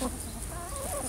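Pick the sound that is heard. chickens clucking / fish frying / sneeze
chickens clucking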